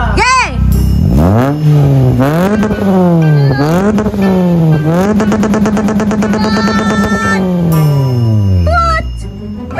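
A car fitted with a motorcycle muffler revs hard in a series of loud, rising blips, each rev sweeping up and falling back before a long sustained high rev that fades out; voices react in the background.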